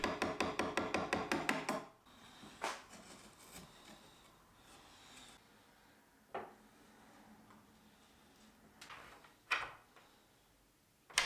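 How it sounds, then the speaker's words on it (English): A chisel cuts a notch into a wooden top piece to fit a latch. A quick run of about ten evenly spaced taps is followed by a few isolated knocks and scrapes, all fairly faint. "I cut that with a chisel."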